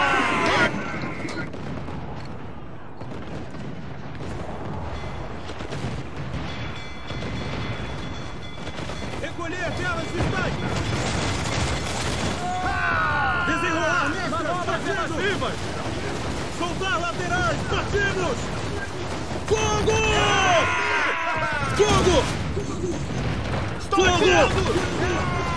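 Booming mortar explosions and bursts of gunfire from Assassin's Creed IV Black Flag, with someone talking and shouting excitedly in Portuguese over the continuous battle noise.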